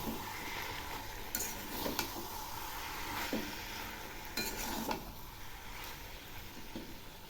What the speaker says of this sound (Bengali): এখন আমি এর মধ্যে দিয়ে দিচ্ছি হাফ চামচ চিনি, একটু নেড়ে দিচ্ছি।